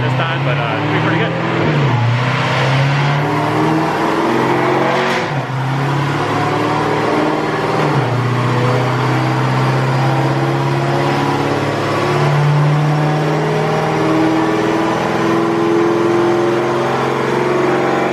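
A Cadillac CTS-V makes a steady, loud engine drone at high revs on a dyno, a sustained roar with tire and roller whir that runs unbroken through the whole stretch.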